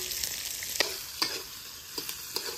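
Onions fry in hot oil, giving a steady close sizzle with a few light stirring clinks and scrapes scattered through.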